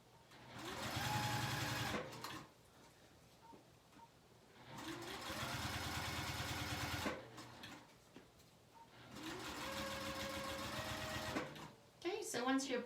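A sewing machine stitching fabric runs in three steady bursts of fast whirring, each stopping between runs, close and clear, with quiet handling noises in the pauses.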